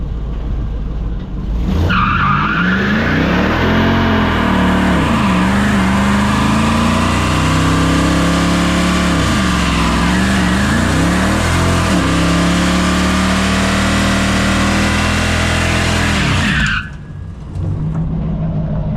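A 2002 Chevy 1500 pickup does a one-tire burnout: a loud engine roars up with continuous tire squeal and wavering revs for about fifteen seconds, then cuts back to idle.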